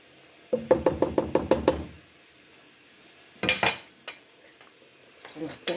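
A spoon stirring a pot of Moroccan chickpea tqliya, knocking the pot rim about eight times in a quick burst, then scraping and clinking sporadically.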